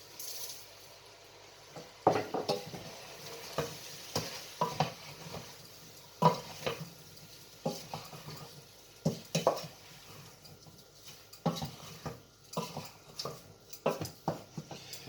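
Spoon scraping and stirring a spice mix into a frying vindaloo curry in a pan, irregular clinks and scrapes over a low sizzle, close and moderate, no talking.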